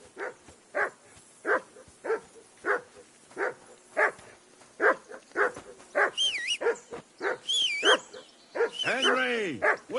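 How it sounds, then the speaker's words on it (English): In the video game Kingdom Come: Deliverance 2, a dog barks repeatedly and rhythmically at a steady pace, close and clear. Faint whines or yips come near the end. "That barking was a pain in the..."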